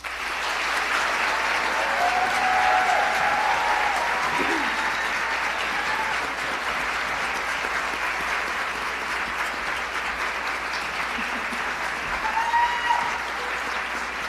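An audience at the Anoka Halloween royal ambassador coronation thanks three ambassadors with sustained, even applause that holds steady for the whole stretch, with faint crowd murmur mixed in.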